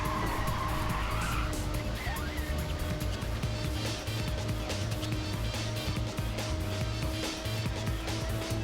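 Ridge Racer 2 car drifting on PlayStation emulation, a steady engine drone with tire screech layered over game music, continuous and fairly loud throughout.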